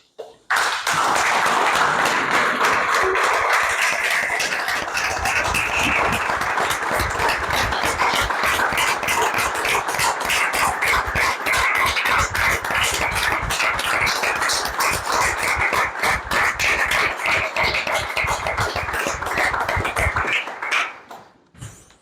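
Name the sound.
audience applause at a tribute event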